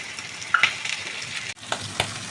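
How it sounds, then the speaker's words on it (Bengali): Potato pieces coated with turmeric and salt fry in oil in a pan, a close crackling sizzle broken by a few sharp spatters and utensil clicks. "আলুগুলো ভেজে নেব"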